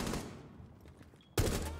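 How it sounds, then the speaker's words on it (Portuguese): Gunfire exchange in a tactical shooter video game: a burst of shots at the start, faint scattered pops through a quieter middle, then a sudden loud volley near the end. "Vai trocando tiro aí pro cara pra tirar a atenção do cara lá"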